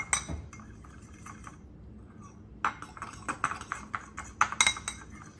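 A spoon stirs a spice mix of garlic, cinnamon, cayenne, salt and pepper in a bowl, making faint, irregular clinks and scrapes that grow busier toward the end, with no speech.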